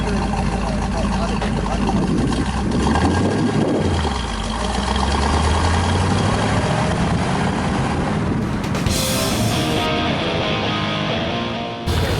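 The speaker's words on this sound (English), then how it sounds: "let off the gas, push in the clutch, which allows you to engage and shift into the next gear" A car engine revs and drops as a manual transmission is shifted through the gears, loud and close, with a rising whine near the end and people talking over it.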